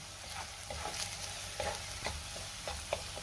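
Turmeric, coriander powder, Byadgi chili powder, onion and garlic masala stirred together in a hot frying pan for a cowpea curry, giving a steady close sizzle broken by repeated spatula scrapes and taps, with no talking.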